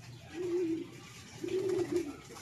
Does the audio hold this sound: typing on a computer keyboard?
no